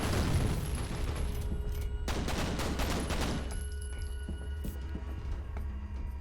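Rapid pistol shots in the shooter game F.E.A.R. crack out in a dense volley, firing steadily before thinning into scattered reports and ringing echoes, with no talk over it.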